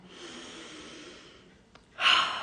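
A deep inhaled breath during a guided forgiveness meditation, a long soft airy draw that swells into a louder, brighter rush of air near the end.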